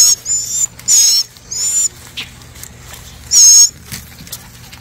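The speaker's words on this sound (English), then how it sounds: "We found baby birds." Baby birds in a nest give high, thin peeping calls in short bursts and separated squeaks, close by and loud against a quiet background, with no voices present.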